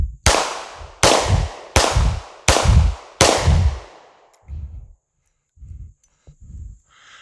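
Pistol fired after being dunked in a muddy pond: five sharp, loud shots in quick succession, each with a short ringing tail, followed by a few softer thuds and quiet handling.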